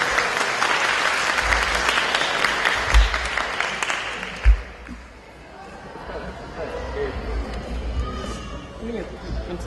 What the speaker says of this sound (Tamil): தாங்கள் அவர்கள் இருவரையும் பலத்த கைத்தட்டலுடன் வரவேற்குமாறு அன்புடன் கேட்டுக்கொள்கிறேன்.